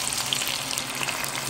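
Iguana meat sizzling and frying steadily in a pan of hot oil, a dense continuous crackle close up with no talk over it.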